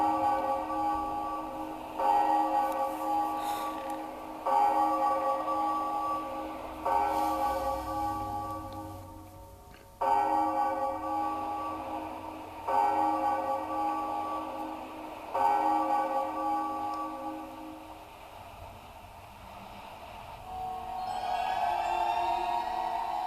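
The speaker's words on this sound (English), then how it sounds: "But it's time to ring the bell." Bell ringing in the video game The Legend of Zelda: The Wind Waker, a series of resonant tolls struck every few seconds, each ringing out and fading before the next, with no voices.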